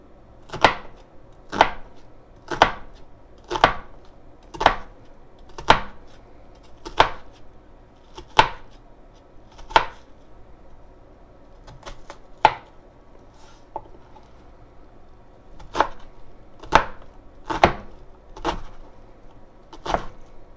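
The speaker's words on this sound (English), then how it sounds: "We're going to do our onion first. Mincing is small, so we want to keep our cuts small." A knife mincing onion on a cutting board, with about eighteen sharp, evenly spaced chops that briefly pause before resuming, close and clear with no talking.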